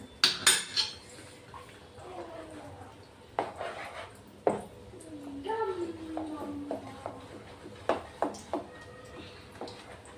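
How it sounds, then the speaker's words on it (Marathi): Oil and half a lemon being stirred together in a bowl for dhokla batter, heard as close, intermittent clinks and scrapes of a spoon against the dish, with a voice speaking over it. "एक पडी तेल घेतोय, अर्धा लिंबू, चांगले मिक्स करून घेऊ आता हे मिश्रण।"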